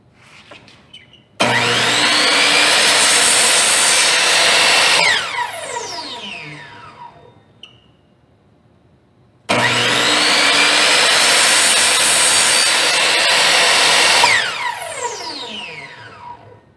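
Powered saw cutting wooden door casing trim at a 45-degree angle, heard as two loud, steady whining cuts of a few seconds each, each spinning down afterward, with a quiet pause between them.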